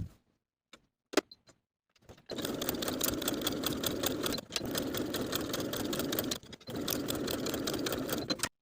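A sewing machine edge-stitches along the inner folded edge of a pant yoke. A few faint clicks of handling come first, then two long, fast, steady runs of stitching, split by a brief pause.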